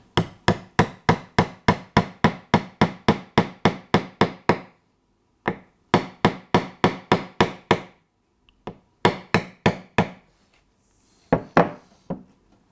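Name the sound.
hammer tapping a track pin into a model railway sleeper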